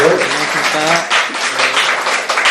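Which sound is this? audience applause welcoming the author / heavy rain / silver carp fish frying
audience applause welcoming the author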